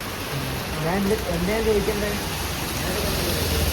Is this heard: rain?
yes